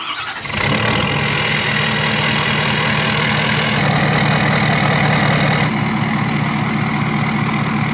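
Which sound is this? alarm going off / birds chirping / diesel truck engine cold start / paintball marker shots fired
diesel truck engine cold start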